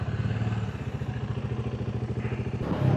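A motorcycle engine cranks and turns over in a fast, even chugging rhythm, close by, then catches and rises to a fuller running sound near the end.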